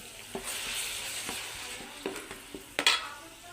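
Ginger-garlic masala fries lightly in oil pushed to the middle of a pan of mushroom vegetable pulao. A soft, steady sizzle runs under scattered stirring clinks and scrapes, a louder scrape near the end.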